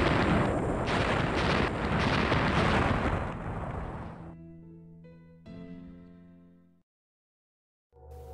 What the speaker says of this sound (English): The priest triggers an explosion, but ends up crushed by a falling boulder.